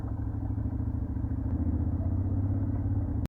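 A big motorcycle engine runs steadily and close by, with a constant low, throbbing idle that keeps going before cutting off abruptly at the end.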